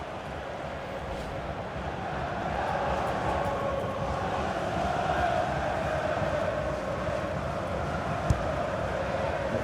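A stadium crowd in FIFA 18 during a West Bromwich Albion vs. Chelsea match at The Hawthorns makes a broad, steady roar that swells into a sustained ooh, loud and continuous with no clear voices on top.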